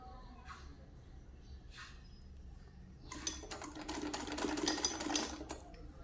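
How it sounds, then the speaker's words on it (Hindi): A sewing machine runs a straight seam along cloth for a shalwar, starting about halfway through as a fast, steady mechanical whir with ticking needle strokes, close and fairly loud after a quieter opening with a few faint sounds. "अब इस पर सीधी सिलाई देंगे।"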